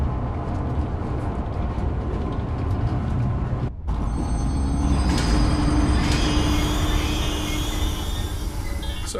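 In the video game Zoochosis, a zoo train starts after a short break in the sound and keeps running, giving a steady loud rumble with high metallic ringing and squealing layered on top, continuous and without speech.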